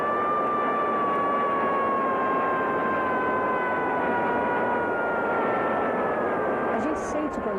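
An airplane in flight gives a steady, loud, droning hum with sustained engine tones that hold unbroken throughout.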